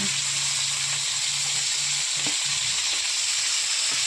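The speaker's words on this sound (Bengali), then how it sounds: "এখন দিয়ে দেব লঙ্কা ফাটানো, তারপরে দিয়ে দেব পেঁয়াজ, তারপরে দিয়ে দেব টমেটো কুচি কয়েকটা" Chilies, onion and chopped tomato frying in hot oil give a dense, continuous sizzle with a low hum early on and a few soft stirring knocks, close and loud throughout.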